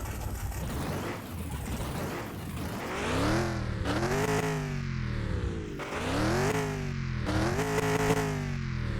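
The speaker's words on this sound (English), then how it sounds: "Exhaust is very loud." A simulated car with a very loud exhaust and a bad fuel filter revs repeatedly in the game Car Mechanic Simulator 2021, engine pitch rising and falling in several strong surges, close and alone.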